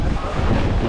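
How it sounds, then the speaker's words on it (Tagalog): Strong wind buffets the microphone in a steady low roar for the whole moment, with no clear voices. "napakalas ng hangin"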